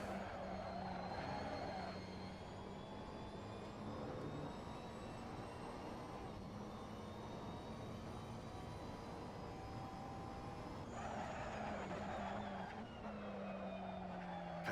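Steady droning GT3 race car engine in the video game Assetto Corsa at Barcelona, high revs with pitch rising through gears, then dropping and climbing again, flat and sustained throughout.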